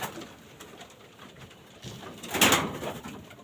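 Racing pigeons in a loft coo softly and repeatedly, with one louder coo near the end and no talk.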